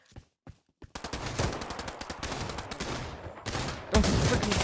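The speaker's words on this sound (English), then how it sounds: "that was definitely a shotgun snipe" Shotgun fire in the virtual-reality shooter Pavlov VR: a few isolated clicks, then sustained loud blasts and rapid gunfire that swell and intensify toward the end.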